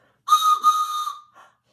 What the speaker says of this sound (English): I even brought a train whistle like this.